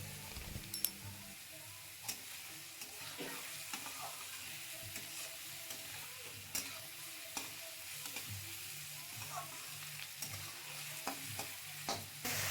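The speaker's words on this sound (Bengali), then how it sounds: "পেঁয়াজ গাজর আলু দিয়ে দিলাম সব এখন একসঙ্গে ভেজে একটু নুন ছিটাও দিয়ে দিলাম" Onion, carrot and potato fry quietly in a pan with a soft, constant sizzle, punctuated by clicks and scrapes of a spatula stirring.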